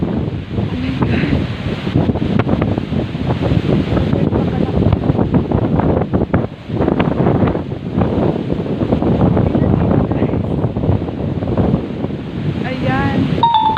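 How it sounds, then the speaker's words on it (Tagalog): Strong wind buffets the microphone at the seaside while ocean waves surge and wash in the background; a loud, continuous roar with shouted voices over it. "napakalakas ng hangin. At saka yung alon guys. Dagat."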